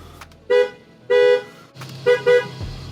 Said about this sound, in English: A simple tap on the steering wheel and blammo, a classic beep beep that everyone understood.